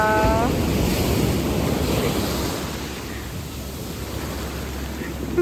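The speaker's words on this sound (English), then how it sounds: "The boat ride back was a bit windy and could be a little chilly." Strong wind and rushing waves on a boat ride back from Rose Island in the Bahamas, a loud steady roar of wind buffeting the microphone over sloshing water.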